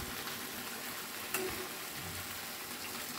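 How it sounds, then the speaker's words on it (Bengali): Spice paste for a vegetable and okra dish frying in a pan, a steady close sizzle with soft stirring and one brief scrape midway. "এখানে আমি মশলাটা ভালো করে কষিয়ে নিচ্ছি।"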